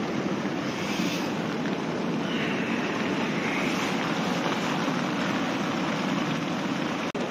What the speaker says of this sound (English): it is chucking down with rain